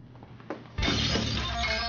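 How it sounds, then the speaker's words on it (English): Laboratory glassware shatters in a single loud, close crash after a brief faint clink, with fragments ringing and scattering for about a second. "broke more glass once again"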